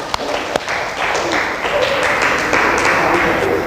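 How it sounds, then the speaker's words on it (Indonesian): A classroom group receives applause from students, a steady dense burst of clapping that carries on evenly for several seconds at close range. "Kita berikan tepuk tangan untuk kelompok 4."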